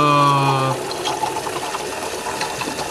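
A power steering flush machine pumps out used oil with a loud steady tonal hum that cuts off early, leaving a gurgling, bubbling flow of liquid through a hose.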